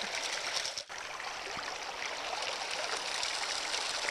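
Steady rush of water flowing through a gold sluice, washing dirt away over the riffles, a close, continuous loud gurgling wash with no talk.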